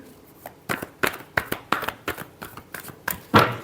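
Tarot cards being riffled and shuffled by hand, a quick run of about a dozen crisp, close papery snaps in an uneven rhythm, ending with a louder final flutter.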